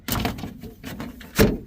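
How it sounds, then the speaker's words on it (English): A portable solar oven's door is opened: a clunk and rustle of unsnapping and pulling, then a sharp thunk of the latch or door near the end, close and fairly loud. "We open the door."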